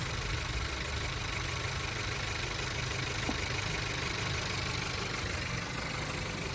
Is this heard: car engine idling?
yes